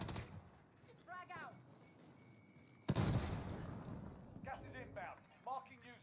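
A frag grenade goes off in Warzone, a sharp, loud blast and a rumbling tail that rises mid-scene, while players talk quietly before and after it.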